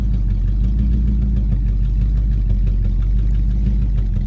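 A 1969 Buick GS 350 V8 idles steadily with a low, even rumble close by, holding a constant note with no revving throughout.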